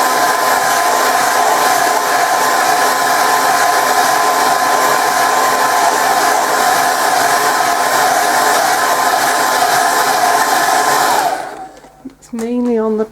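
A hair dryer blasts steadily on a woodland watercolor painting, a loud, even roar for about eleven seconds before cutting off abruptly into near quiet.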